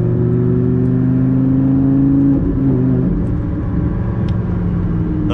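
Lamborghini Gallardo V10 accelerating in Corsa mode, a loud, smooth multi-cylinder engine note that holds steady, then shifts and settles into a rougher, lower rumble.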